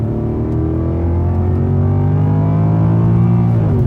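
Mercedes AMG CLK Black Series accelerating hard in second gear, a loud close engine roar with revs climbing steadily for several seconds, heard from inside without talk.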